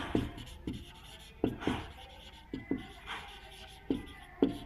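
Pen strokes scratch across paper while notes on nutrition are written out, a run of short, close scrapes and taps coming in uneven bursts with brief pauses, no voice over them.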